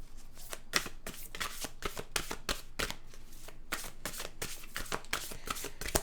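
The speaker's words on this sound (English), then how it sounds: "Okay, let's get an oracle card." Oracle cards shuffled by hand, a run of quick crisp riffling bursts with a steady close rhythm, heard alone and up close without talk.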